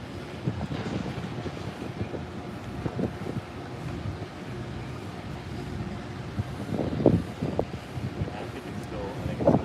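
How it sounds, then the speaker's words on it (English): Wind at the SpaceX Starbase launch site in Boca Chica, Texas buffets the microphone in a constant low rumbling roar with stronger gusts, and muffled voices sit underneath. "we got some wind here, everybody"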